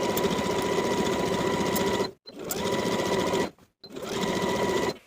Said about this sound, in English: my finished edge of the facing on the inside stays put as I top stitch it in place all the way around